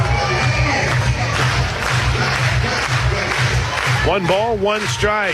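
A softball crowd at a Florida State versus Oklahoma super regional game claps in steady unison, a low rhythmic pulse beneath a radio announcer's play-by-play.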